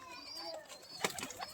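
Pigeons at a pigeon sale, including Jamuni and Sylheti Kamagar birds, coo and flutter nearby, with a cluster of brief wing flaps and soft calls over a steady low background.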